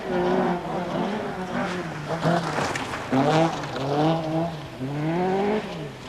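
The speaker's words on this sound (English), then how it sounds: "No mistaking that Opel sound as he threads his way around the back of the course." Opel Manta rally car engine revving and rising in pitch as it threads around the back of a rally course at the 1988 Race of Champions, loud and close with several throttle swells.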